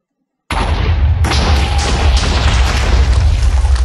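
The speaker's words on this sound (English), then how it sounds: "This is how it explodes." A homemade toy missile explodes with a sudden, loud boom after a moment of silence, followed by a sustained roaring, crackling rumble that continues to the end.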